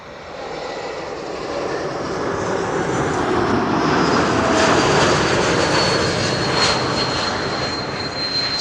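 An Emirates Airbus A380 jet lands at Schiphol, its engine roar building to a loud, sustained broadband rush with a whining tone that peaks midway and then eases slightly, with no talk over it.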